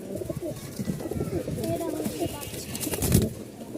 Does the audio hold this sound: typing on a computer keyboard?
no